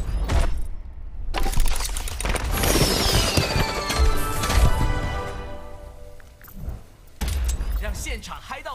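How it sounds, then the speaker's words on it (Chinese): Fireworks in the Overwatch video game launch with whistling rises, then crackle and pop in a bright burst that fades. A voice briefly speaks amid the bangs. "来点烟火。"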